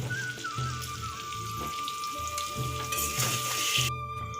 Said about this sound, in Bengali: এইদিকে আমার আলুটা ভাজা হোক